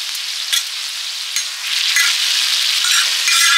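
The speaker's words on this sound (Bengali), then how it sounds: "মোটামুটি মশলাগুলো মাছের সঙ্গে কষে নিয়েছি।" Fish coated in spices sizzles loudly in a pan, a continuous bright hiss with soft scraping strokes as it is stirred, close and without talk.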